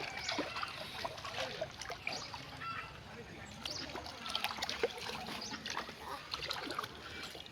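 Village greens are washed by hand in water, giving quiet, irregular splashes and trickles close by, with people talking softly alongside.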